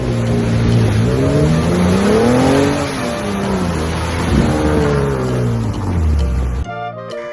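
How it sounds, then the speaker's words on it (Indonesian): A revving off-road car engine rises and falls in pitch, climbing in long sweeping surges, loud and close, before cutting off abruptly at the end, with nothing else heard over it. "ternyata ini adalah mobil off-road"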